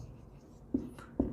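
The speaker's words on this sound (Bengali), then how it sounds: "এই মানগুলো আমি পাশে লিখে দিচ্ছি" Two brief marker or chalk strokes on a board during a chemistry lesson, each a short faint scrape, spaced about half a second apart in a quiet room.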